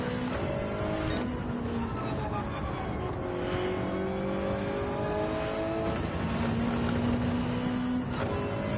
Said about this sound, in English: Oop, hit the rev limiter there.